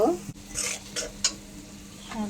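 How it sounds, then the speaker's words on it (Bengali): Spices with turmeric, chili powder and onion being stirred in a pan for spicy potato laddu: a few quick scraping strokes of a spoon over a low, steady sizzle, close up with no talking. "নাড়াচাড়া করে নিব"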